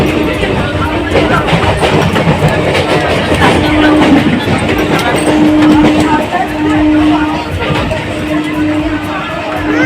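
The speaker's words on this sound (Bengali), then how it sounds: "আমরা ট্রেনে উঠে পড়েছি।" Steady, loud rumble of a moving train heard from inside the carriage, with continuous rolling noise and faint clatter, plus a murmur of passengers' voices in the background.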